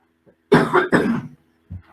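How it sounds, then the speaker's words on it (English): A couple of close, throaty coughs in quick succession, followed by a brief softer throat sound, with no talking. "Excuse me, I'm just going to have to cough."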